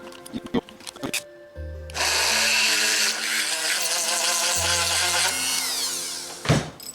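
A cordless electric drill fitted with a larger bit runs in a steady loud burst for about three seconds, preceded and followed by shorter clicks and handling noise on a workbench.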